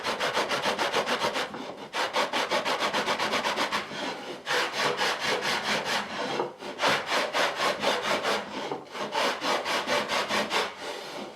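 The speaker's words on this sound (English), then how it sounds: "So I keep rubbing the inside of the frame against the sandpaper." A wooden frame rubbed back and forth against sandpaper on an unplugged drum sander: steady rhythmic rasping strokes in quick runs with short pauses between them, close and moderately loud, with no voices.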